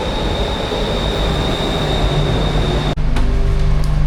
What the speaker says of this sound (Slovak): z vlaku idem na Skytrain v Bangkoku